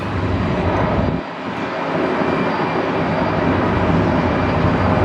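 A jet airliner taking off from DFW and climbing steeply, a loud continuous broadband engine roar that briefly dips then holds strong, heard from a distance outdoors.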